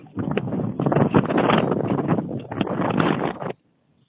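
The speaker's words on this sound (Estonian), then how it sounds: "Esiteks ilm seda ei luba. Suur lainetus, tugev tuul." Strong wind with big waves on the water roars steadily and loudly into the microphone for about three and a half seconds, then cuts off abruptly to silence.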